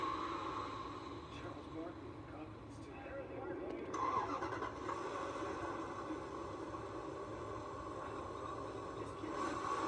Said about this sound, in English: A beautiful melodic note from that twin-turbo V8.